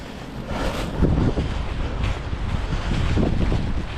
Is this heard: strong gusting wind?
yes